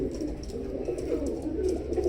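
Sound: teddy pigeons cooing

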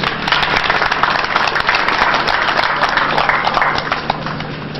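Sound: audience applause for the governor

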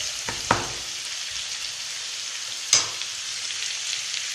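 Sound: frying carrot and onion in a pan

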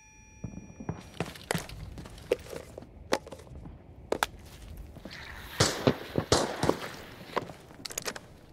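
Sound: teammate's grenade exploding in Arena Breakout Infinite video game

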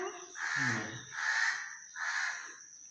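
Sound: crow cawing

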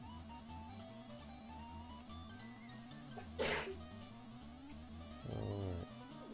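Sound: woman sneezing

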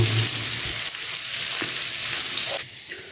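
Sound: onions frying in a pan

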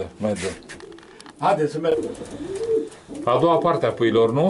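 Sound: pigeons cooing in a pigeon loft

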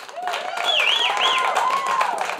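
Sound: audience round of applause at comedy show

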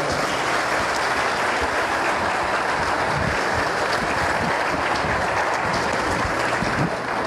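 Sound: audience applause at solemn session

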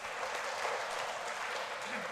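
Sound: applause in church

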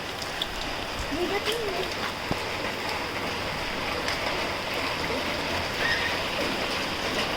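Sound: rain falling in the Konkan countryside

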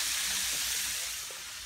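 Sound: chicken frying in pan

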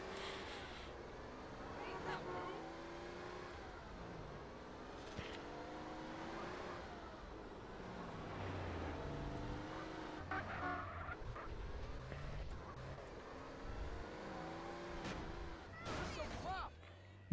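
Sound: car driving in GTA San Andreas Definitive Edition video game

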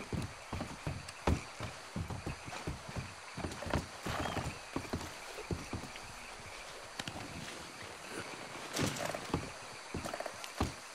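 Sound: horse hooves walking, from a video game

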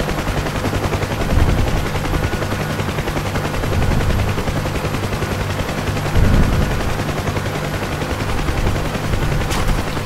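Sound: gunfire from video game, incoming fire

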